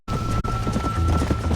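A horse gallops at speed in the Western video game Red Dead Redemption, hoofbeats thudding close under a steady game soundscape with a thin sustained tone running through the short burst.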